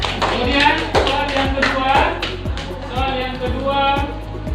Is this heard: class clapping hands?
yes